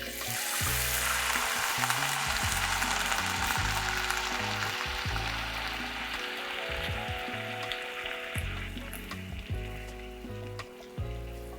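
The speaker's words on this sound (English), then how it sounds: "my rice is toasting." Rice grains toasting in a hot pan for mushroom risotto, a steady dry sizzle and crackle that holds for several seconds and slowly eases, with a low hum beneath and no talking.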